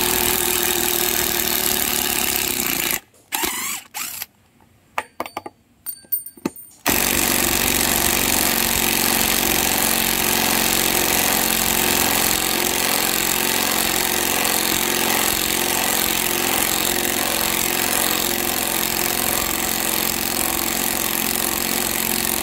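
A DCA ADPL02-8 12V cordless impact driver runs loud and continuous for most of the stretch, a steady dense motor-and-hammering whir broken by a few seconds of stuttering stops and starts early on.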